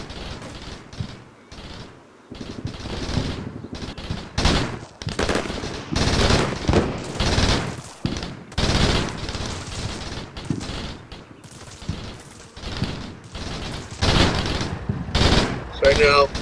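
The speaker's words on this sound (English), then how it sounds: "Right now, the MG3s are doing some plunging fire over the heads of my maneuver forces." MG3 machine guns in Combat Mission Shock Force rattle off repeated bursts of automatic fire, loud and dense, with short pauses between volleys while someone talks over them.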